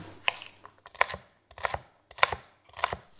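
Five sharp knife strikes on a board at a steady, slightly uneven pace as capsicum is chopped up close, each cut a crisp thud with a short bright crack, quiet gaps between.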